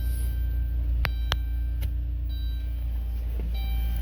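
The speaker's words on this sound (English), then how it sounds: "I'm gonna go ahead and start the vehicle up so you can hear it run." A 2018 Dodge Grand Caravan with a wheelchair conversion idles steadily in a low, even hum, with a few sharp clicks and faint tones over it and no talking.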